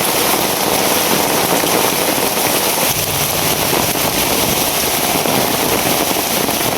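Heavy rain pours down nonstop, a loud, dense, hissing roar of drops drumming on surfaces close by, with no talking.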